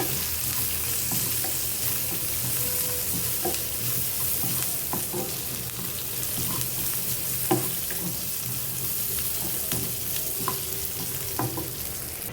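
Onions fry in a pan on a home stove, a dense, even sizzle running throughout with scattered stirring clicks and scrapes on top, moderately loud and without talk.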